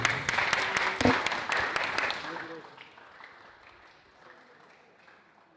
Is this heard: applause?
yes